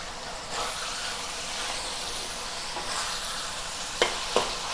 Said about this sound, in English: Have a quick stir fry.